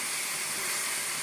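Vegetables frying in hot oil for a veg pizza topping, a steady close sizzling hiss that stays even throughout the short stretch, with no talking.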